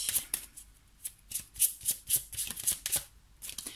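Cards being shuffled for a tarot-style love reading, a quick series of crisp riffling snaps and flicks close to the mic, irregular and continuous for several seconds, no voices.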